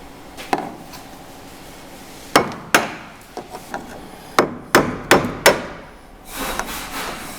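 Hammering on rivets in the rear floor of a C1 XL, a series of sharp metallic strikes, one early, then a cluster of loud, irregularly spaced hits with short pauses between them.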